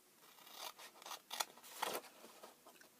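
Scissors cutting through card for a flip top box, a few short, quiet snipping strokes close by in an otherwise quiet room.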